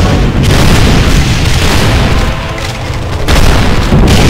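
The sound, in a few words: grenade explosions in the video game Doom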